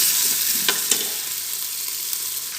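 Beef trotters (paya) frying with red chili powder and spices in a pot, a steady sizzle with a couple of sharp scraping stirs near the start.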